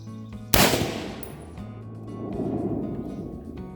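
A single sharp, loud crack from a military surplus rifle at close range rings out and decays into a rumbling echo, followed by quieter background noise.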